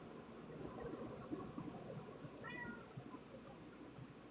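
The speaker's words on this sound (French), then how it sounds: "c'est le chat et Bonnie qu'on entend" A cat meows softly a couple of times against a quiet background hiss, fairly faint and alone with no talking.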